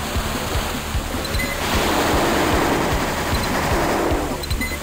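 A mech's chain gun in Armored Core: Project Phantasma fires a rapid, even stream of punchy shots over a loud rushing roar of battle noise.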